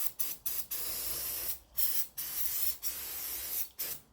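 Short bursts of PineSol degreaser sprayed onto an aluminum piston from an LS engine, about eight quick hissing squirts in an uneven rhythm, close and fairly loud, with no talking.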